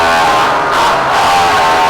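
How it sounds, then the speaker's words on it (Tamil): Two or three motorcycles at a festival stunt show in Anthiyur give off a loud, continuous engine roar that swells and dips slightly and fills the whole stretch without a break. "2-3 பைக்கு ரோரிங் சவுண்ட் கேட்குது."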